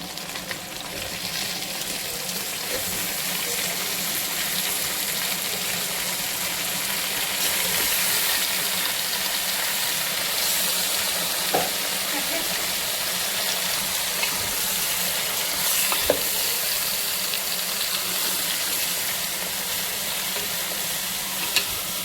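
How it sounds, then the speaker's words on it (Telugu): Chicken pieces, including leg pieces, go into a pot for biryani and fry with a steady, loud sizzle that holds throughout, with occasional stirring clatter and no talking. "ఇప్పుడు దీంట్లో చికెన్ వేసుకోవాలి."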